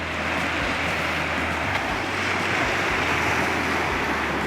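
Ocean waves wash continuously onto Black Brook Cove Beach in Nova Scotia, a steady broad roar of surf with wind buffeting the microphone, loud and unbroken throughout with no voices.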